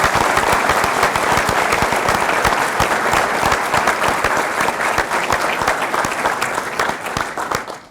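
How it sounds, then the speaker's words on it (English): Audience at a graduation ceremony for an Army-Baylor MHA/MBA class applauds on behalf of an absent honoree, a sustained, dense wash of many hands clapping near and loud, easing slightly toward the end. "I'd still like to offer a round of applause on her behalf"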